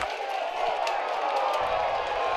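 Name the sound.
baseball stadium crowd cheering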